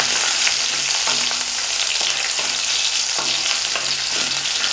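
Urad dal, garlic and chopped ginger crackle in hot oil for Chettinad kara chutney, a loud, continuous close sizzle broken by regular spoon-stirring knocks against the pan.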